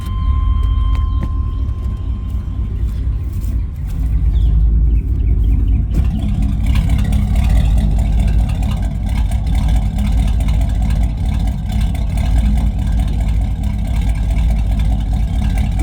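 A 2005 Chevrolet Cavalier engine runs steadily after a cold start, a low rumbling idle that swells and rises partway through and then holds a loud, rough drone.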